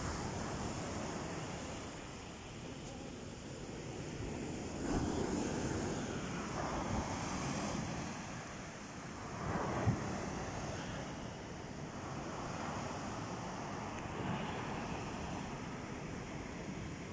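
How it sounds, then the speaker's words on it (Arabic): Rough sea waves surge onto a Costa del Sol beach in Spain, a continuous rumbling wash with swells rising and falling every few seconds, mixed with wind buffeting the microphone and no talk. "البحر اليوم هايج بزاف"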